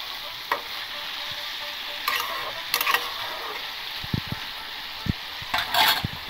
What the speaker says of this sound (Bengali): দিয়ে ভালো করে নেড়ে ঢেকে দেবো।